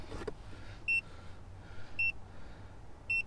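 Three short, clear electronic beeps at roughly one-second intervals from a Mercedes Sprinter van during a relearn procedure after an intake manifold repair, heard over a low, steady background rumble.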